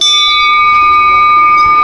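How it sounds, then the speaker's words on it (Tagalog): Bear bell jingling on a hiking trail in Kamikochi, a loud close ringing tone with sustained metallic overtones that slowly fade. "Ito ay bear bell."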